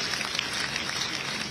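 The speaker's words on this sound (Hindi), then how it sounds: "माननीय मंत्री जी के लिए भी जोरदार तालियां बजाओ" A large crowd at a women sarpanch conference in Madhya Pradesh claps in dense, continuous applause, steady and fairly loud throughout.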